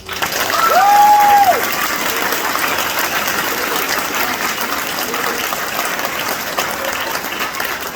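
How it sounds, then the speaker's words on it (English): Audience at a 6th grade graduation applauds loudly and steadily, with a brief whistle-like tone near the start and a few scattered cheers inside the continuous clapping. "Give them a round of applause."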